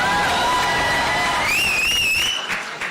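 An audience at a Pathaan film event breaks into loud, sustained clapping and cheering, with shrill whistles rising above the crowd noise before it thins out near the end.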